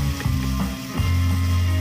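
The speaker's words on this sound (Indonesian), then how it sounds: "Sekarang tumis bumbu yang sudah dicincang tadi dengan menggunakan api sedang." Chopped spices sautéing over medium heat in a non-stick wok, a steady sizzle with a few scraping stirs of the utensil, close and fairly loud with no talking.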